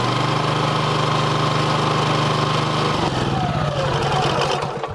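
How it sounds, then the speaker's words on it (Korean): Small gasoline engine on a DNG-2000 automatic hose reel for pesticide spraying, running loud and steady with a buzzing idle throughout, its pitch dropping and shifting after about three seconds; no talk. "일단은 엔진을 시동을 걸어서 이제 작동을 시키면"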